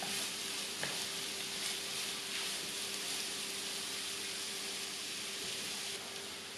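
Chopped vegetables for vegan stuffed peppers sautéing in a pan and being stirred, a soft even sizzle with a couple of light utensil taps, steady and unaccompanied.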